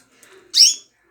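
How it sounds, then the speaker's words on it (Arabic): Pet birds kept at home give a soft faint twitter followed by one short, bright chirp, close and clear in a quiet room. "هذا أحلى عصفور عندي، أول إنتاج"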